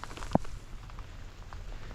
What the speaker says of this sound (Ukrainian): він під дощом, дивіться, отакий от дощ